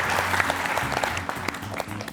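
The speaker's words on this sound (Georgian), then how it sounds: "აპლოდისმენტები კიდევ ერთხელ ბრაზილიას." A studio audience gives a short burst of dense applause for team Brazil at a quiz game show, with a low hum of background music beneath the clapping.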